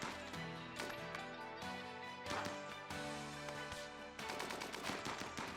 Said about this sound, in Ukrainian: що ви так стріляєте криво?